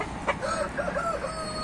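A rooster in a yard of pedigree chickens crows clearly, with a drawn-out call rising and falling over faint farmyard background.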